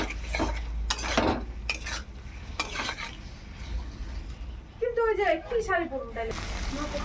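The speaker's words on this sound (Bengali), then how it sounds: "এবার মশলাগুলোকে ভালো করে মিশিয়ে নিতে হবে।" Spices and boiled potatoes being stirred together in a pan for a fish and new-potato curry, with several scraping, clattering strokes against a low frying hiss and a brief voice-like sound near the end.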